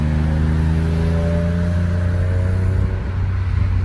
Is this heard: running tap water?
no